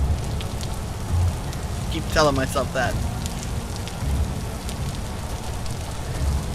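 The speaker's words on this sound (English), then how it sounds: "I think we have picked a rainy location." Steady rain patters on the ground in the video game Vintage Story, a constant soft hiss that runs the whole time while someone says a short phrase partway through.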